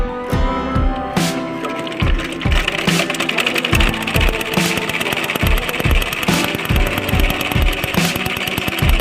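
A sewing machine runs steadily while stitching a round piece of fabric for a hair bun night band, its rapid mechanical needle clatter loud, close and continuous, with no voices.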